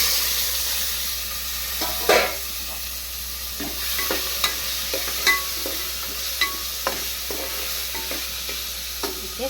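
Chopped tomatoes fry in a pan for tomato rice, a steady close sizzle and hiss with intermittent scraping clinks of a spoon stirring throughout, no speech.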